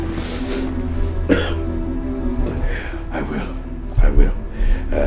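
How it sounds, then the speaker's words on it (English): Several coughs from a man break through a noisy room with a steady low hum, some sharper bursts near the middle and end. "you need to do something about this cough"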